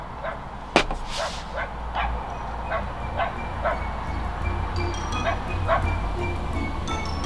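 A dog barks repeatedly at a solo campsite, a series of sharp yips and barks spaced through the clip against steady outdoor background noise.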